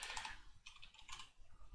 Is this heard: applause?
no